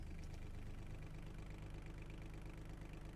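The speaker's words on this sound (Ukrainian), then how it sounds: "Запускаємо двигун." A modded tractor engine in Farming Simulator 25 idles after starting, giving a faint, steady, pulsing low rumble throughout with no talk.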